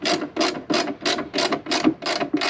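Ratchet with an 8mm socket tightening an intake coupler on a Toyota Tundra cold air intake install, eight quick, evenly spaced clicking strokes, close and clear with no talking.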